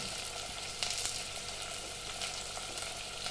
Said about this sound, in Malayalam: ഈ ഉരുളൻ കിഴങ്ങ് ഇട്ട് കൊടുക്കാം